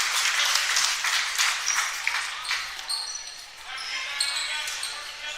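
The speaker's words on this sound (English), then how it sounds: "Big standing ovation from the crowd." A basketball crowd gives a standing ovation in a gym, steady applause and cheering with sneaker squeaks cutting through, under a person talking.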